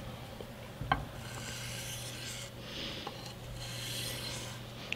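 Mora knife with a Scandi bevel drawn in light strokes into the edge on sandpaper, producing soft, faint rubbing rasps with a couple of small ticks over a low hum.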